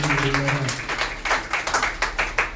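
A church congregation claps rhythmically during a Telugu worship service, with repeated sharp claps in a steady beat close by and a brief sung or spoken voice early on.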